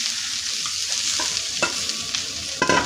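Grated coconut with sliced almonds and cashews is sautéed in a pan, giving a soft sizzle with a few light scraping stirs and small clinks of the spoon.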